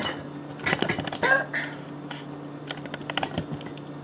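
A knife chops an onion on a cutting board in a home kitchen: quick, close, uneven clicks and taps come in short bursts, with brief murmurs of speech between them.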